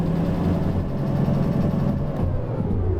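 Diesel shunter locomotive in the train game Derail Valley, throttled up: a steady, loud low engine drone with a deep throbbing hum, holding level throughout.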